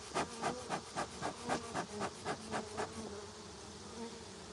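Honeybees buzz during a trap-out from a 200-year-old cedar tree. The dense, steady drone swells in a regular pulsing rhythm and then settles into a softer, even hum, with no talking.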